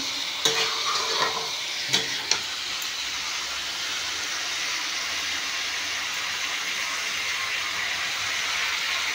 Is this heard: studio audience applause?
no